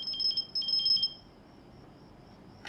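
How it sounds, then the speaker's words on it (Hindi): A phone rings with an incoming call indoors, sounding as a quick repeated electronic trill in two bursts before cutting off, fairly faint over a quiet room with no talk. "फोन आ रहा है उसका।"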